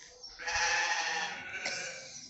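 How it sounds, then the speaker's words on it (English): A single sheep gives a clear, drawn-out bleat at a farm park, moderately close, with a second shorter rise near the end and quiet surroundings. "We've got a lot of sheep, some calves"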